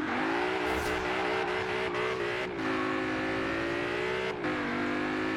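A Mustang in the video game Forza Horizon 4 revs and accelerates with a loud, rising engine whine that climbs through gear shifts, dipping briefly between them, with no talking over it.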